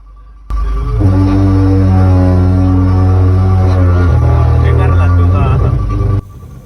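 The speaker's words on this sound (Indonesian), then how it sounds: "dikarenakan itu bukan suara trompet, melainkan itu adalah suara rem mobil." Truck brakes on a steep, winding downhill road in Sulawesi that often has landslides give off a loud, sustained trumpet-like tonal squeal that holds for about six seconds, shifting pitch a few times before cutting off.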